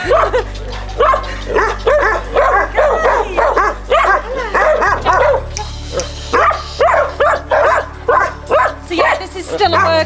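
Dogs in a dog shelter bark and yip repeatedly in a steady series of short bursts, with occasional whimpers, fairly close and loud over a low background hum.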